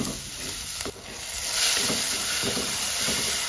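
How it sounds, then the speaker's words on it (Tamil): Tomatoes and red chilli powder cook and get stirred in a pan for a fish curry, giving a steady close sizzle with soft scraping stir strokes and no talking. "தக்காளி வந்து நல்லா நம்மளுக்கு குக் ஆகணும்."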